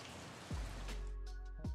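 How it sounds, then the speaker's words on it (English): Rain falls at night as a steady, soft hiss across the whole clip, broken by two low swooping thumps. "It started raining!"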